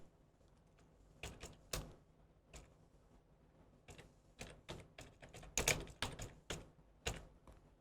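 Scattered, quiet keystrokes on a computer keyboard as code is entered, coming in small irregular bursts with pauses between them in an otherwise silent room.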